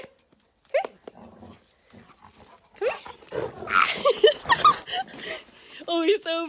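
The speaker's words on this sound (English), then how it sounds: "That dog is insane!" A vicious dog growls and barks in short bursts, with several people talking and exclaiming over it nearby.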